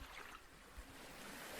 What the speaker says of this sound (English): Hear the waves rolling in and washing back out.